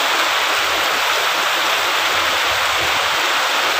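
Heavy rain pouring down hard and steadily, a loud, dense hiss of falling water with no pauses, heard close up outdoors near a laundry area.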